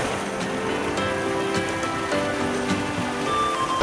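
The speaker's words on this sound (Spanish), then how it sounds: "Tiene la cascada aquí al lado." A waterfall rushes steadily nearby at a scenic spot in Lares, Puerto Rico, a dense, unbroken roar of falling water with no voices over it.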